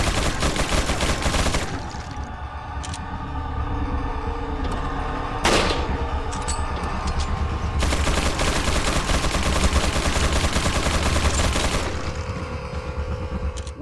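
Loud bursts of gunfire in Resident Evil 4, with repeated sharp shots and rapid volleys over a dense rumbling background, nearly continuous and close.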